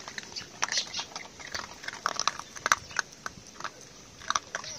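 Orphan puppies recovering from mange crunch dry dog food, a close run of sharp irregular bites and chewing clicks with no talk.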